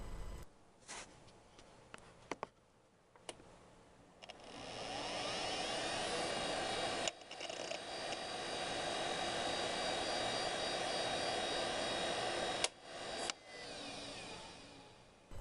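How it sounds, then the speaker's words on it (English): An old hard drive from a first Windows 98 Second Edition computer, spinning with a steady whirring hum broken by clicks and brief seeks, faint and continuous throughout. "It is my first hard drive that came in my first computer that booted Windows 98 2nd edition."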